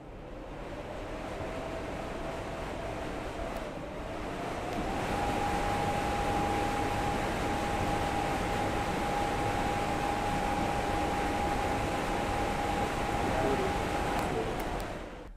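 A V-Guard tower fan runs steadily with a broad airy whoosh and a faint tonal hum that steps up slightly in pitch and strength partway through, then holds constant, close to the microphone with no voices.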